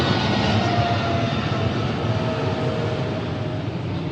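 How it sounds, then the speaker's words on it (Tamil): A fixed-wing airplane passes overhead near Dubai Airport in the Hor Al Anz area, a loud, continuous engine roar that holds steady for the whole stretch. "இந்த ஃப்ளைட் சத்தத்தை கேட்டுக்கிட்டே இருக்க முடியும் ஒரு 5 to 10 நிமிஷத்துக்குள்ளே"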